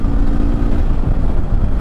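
Up close, a motorcycle's 210cc liquid-cooled DVS engine growls in a dense, rumbling drone under load, loud and steady for a brief moment with no speech.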